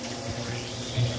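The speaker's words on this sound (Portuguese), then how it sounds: "E um pouco de água para cozinhar." Water runs steadily into a pan with fish being cooked in it, a soft continuous splashing and hissing pour with a slight swell near the end.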